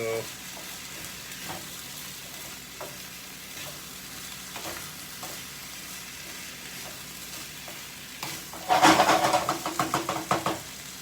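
Bacon and potatoes frying in a pan, a quiet steady sizzle with occasional light taps, then a louder burst of crackling and spatting as more food hits the hot fat, pulsing in stirred waves.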